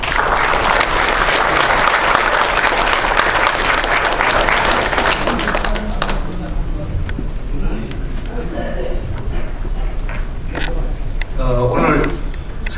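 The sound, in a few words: audience applause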